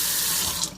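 A faucet runs water to rinse a scratched game disc, a brief steady splashing hiss close by with no voices.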